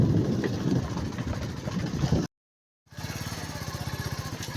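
A small motor scooter engine putters nearby with a rapid, even rhythm, cutting out briefly before running again.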